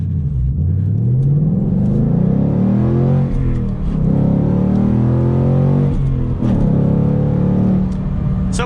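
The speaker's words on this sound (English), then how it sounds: "do a first gear acceleration, kind of feel it out, the power a little bit more" A 2021 Ford Mustang GT manual's engine roars as it accelerates hard in first gear, pitch climbing through the revs with a loud, steady rumble close up.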